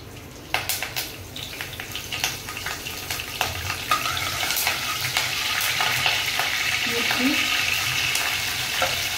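Cumin seeds and curry leaves hit hot oil in a home kitchen pan, giving a close, steady sizzle with sharp pops and crackles scattered over it and a faint voice in the background.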